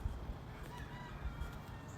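Chickens and turkeys in a yard cluck and call faintly in the distance, with soft scattered bird sounds over low outdoor rumble and no talking.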